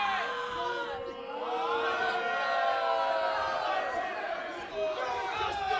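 Wrestling arena crowd voices disapproval with a sustained, loud roar of booing and jeering that swells and holds throughout, with no individual voices standing out.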